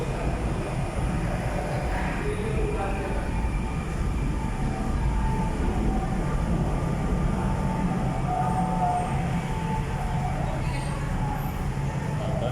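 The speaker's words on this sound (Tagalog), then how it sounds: "At yung nakikita nyo naman may MRT." An MRT train on the elevated line runs steadily near a pedestrian crossing bridge by a carousel bus station, a loud continuous low rumble with faint higher squeals, mixed with city traffic.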